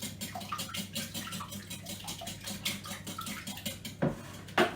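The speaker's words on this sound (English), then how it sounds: "So we're just going to whisk them together." Eggs are whisked together in a bowl for chocolate cupcake batter, making quick rhythmic clinks and taps against the bowl with no talk.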